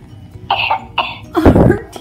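A Baby Alive Sweet Tears baby doll gives a few short electronic coughs and throat-clearing sounds in quick succession, close and fairly loud.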